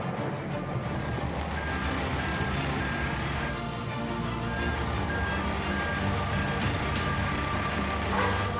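Road train truck in the outback reversing to hitch four trailers, a steady diesel engine drone with faint repeating reversing beeps, continuous and moderately loud, with no talk.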